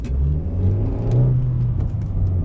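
A 2009 Honda City's engine revs as the car pulls away, a steady mid-pitched engine drone with rising and falling rev tones throughout, heard from inside the cabin with no talking.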